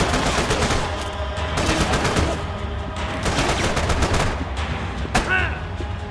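Gunfire in the video game Max Payne 3, bursts of rapid automatic shots and scattered single cracks repeating over several seconds, loud and close against a continuous rumbling backdrop.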